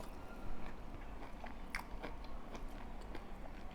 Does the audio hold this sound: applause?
no